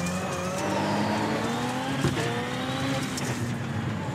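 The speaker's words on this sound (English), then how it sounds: "No, car, stop skidding." A Ford Fiesta Pro 2 Lite race car slides on the dirt at Daytona in iRacing, its engine whining through shifting revs as the tires skid continuously and loudly.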